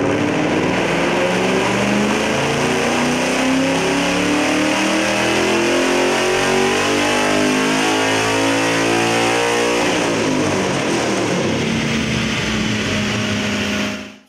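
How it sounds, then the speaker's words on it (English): Ford Mustang GT with BBK 1 3/4 inch long tube headers and a catless midpipe revving hard on a chassis dyno, a loud rising engine note climbing steadily through a long pull before abruptly cutting off near the end. "let's turn the rollers again with our BBK 1 3/4 inch long tube headers and catless midpipe"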